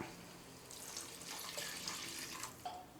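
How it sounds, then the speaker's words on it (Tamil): Thin coconut milk is poured into a pot of basmati rice for a mango pulao, giving a soft, steady liquid splash that is faint and close, with no talking. "மூணு கப்பு பாசுமதி அரிசிக்கு நாலரை கப்பு தேங்காய் பால் ஊற்ற போகிறோமா"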